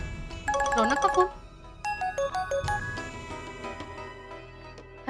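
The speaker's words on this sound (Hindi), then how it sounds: "रौनक का फोन।" A mobile phone ringtone plays in a home setting: a bright, repeating electronic melody of tinkling tones, followed by a second shorter phrase of chiming notes, fairly loud and close, with no talking over it.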